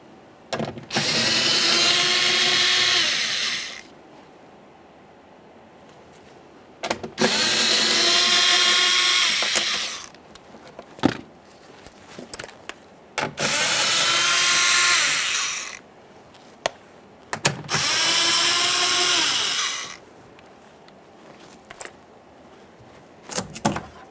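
Power drill or driver runs in four long, loud bursts of about three to four seconds each, with short pauses and small clicks between, while removing four 7mm-headed mounting bolts from a 2015-2020 Ford F-150 front door speaker.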